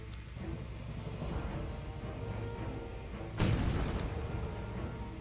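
A cannon in World of Warcraft fires with a deep, heavy boom partway through, rising out of a steady low rumble of battle ambience.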